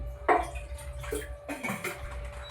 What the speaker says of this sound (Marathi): आता मी याच्यावर टाकते पुन्हा पाणी